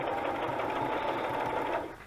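A sewing machine stitching a zigzag seam on fabric scraps, running in a continuous close mechanical whir that eases off at the end.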